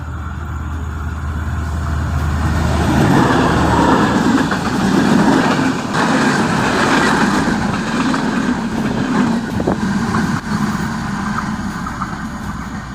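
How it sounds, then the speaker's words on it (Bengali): A train approaches and passes close by with a loud, steady rumble of wheels and carriages that swells and holds for about thirteen seconds, with no talking. "আরে ট্রেন আইতেছে"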